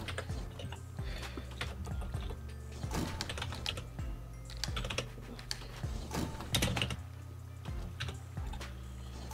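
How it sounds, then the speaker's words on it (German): Someone hammers hard on a computer keyboard, loud close-up clacking keystrokes in irregular bursts and rapid runs, with no voice. "Warum hämmerst du eigentlich so auf die Tastatur?"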